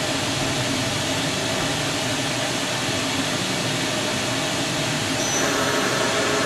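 Doosan DNM-400 vertical machining center with its spindle running, giving a loud, steady broadband mechanical whir and hiss that holds constant throughout, with a faint high tone entering near the end.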